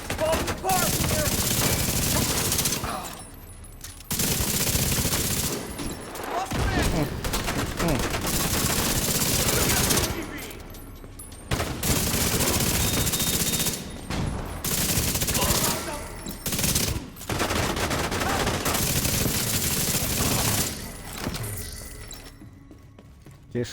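Chameleon gun fire in The Division 2 during a Summer Swarm invaded mission at the Lincoln Memorial: loud, sustained bursts of automatic gunfire in several long volleys separated by brief gaps, with voices mixed in.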